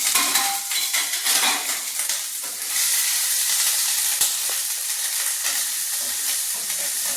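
Ginger and onion fry in a pan with a loud, steady sizzle, broken by the clatter and scrape of a utensil stirring against the metal.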